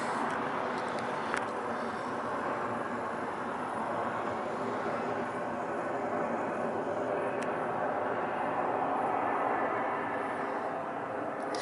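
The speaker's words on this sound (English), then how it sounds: "There's a plane going out there." A distant airplane drones steadily overhead, heard from a boat on the Norfolk Broads, a faint broad rumble that holds level throughout, with soft background noise and no talking.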